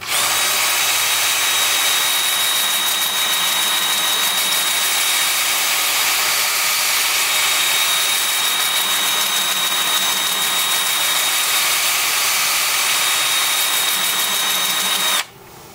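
A wood lathe spins a turned piece at about 400 RPM, giving a continuous high whine and hum that holds steady and loud for the whole stretch, then cuts off abruptly at the end.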